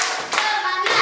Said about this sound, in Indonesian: kita buat tepuk-tepuk semangat